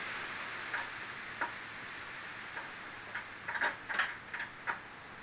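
A wrench ratcheting during mini bike maintenance, with faint, sparse metallic clicks that bunch into a quick cluster near the end, heard alone in a quiet space.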